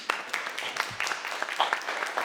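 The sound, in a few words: audience round of applause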